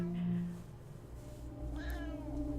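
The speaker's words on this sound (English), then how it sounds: "There's a cat in my lap." A real house cat meows close by, a short mewing call over a steady low background hum while a game plays.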